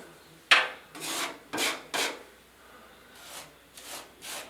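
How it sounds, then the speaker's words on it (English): Drywall compound being worked onto basement bedroom trim with a putty knife, a series of soft, close scraping and rubbing strokes in an uneven rhythm, with no voices. "Now it's just a matter of taking some drywall compound. I'm just gonna put it right there for now."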